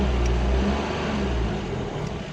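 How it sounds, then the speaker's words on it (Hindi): A Suzuki Bolan engine revs loudly in first gear as the clutch is let out, a steady close-up engine drone that eases slightly toward the end, no talking. "गाड़ी रेस हो रही है"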